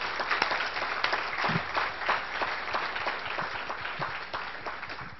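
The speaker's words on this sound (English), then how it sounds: "So just another round of applause for just doing the actual work" Dense applause from a sizable audience at a recycling business summit, steady and full, with clapping continuing throughout and easing off slightly toward the end.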